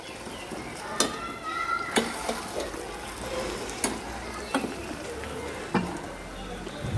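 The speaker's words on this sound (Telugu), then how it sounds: "మధ్యలో కలపండి, ఏమాత్రం అడుగంటనివ్వకుండా చూసుకోండి." Cabbage, capsicum and taro curry stirred in a pan, with a soft sizzle underneath and sharp spoon scrapes and clinks against the pan recurring every second or so.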